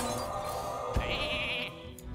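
A short electronic sheep bleat pops out of a Hearthstone card game match, brief and bright amid a soft game-music background.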